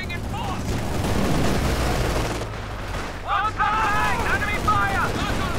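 Gunfire and bursting incendiary grenades in a WWII video game, a dense loud barrage of shots and blasts with a brief lull, with a voice talking over the battle.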